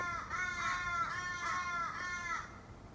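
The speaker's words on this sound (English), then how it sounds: "we've got crows going off constantly" Crows cawing continuously outdoors at a moderate distance, a harsh repeated chorus of calls in steady rhythm over faint background hiss.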